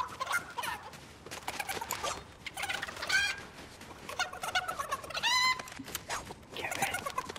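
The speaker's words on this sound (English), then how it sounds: "I'm a runner trying to catch my chicken." A video game chicken clucks and squawks repeatedly in quick bursts, lively and fairly close, with no talking over it.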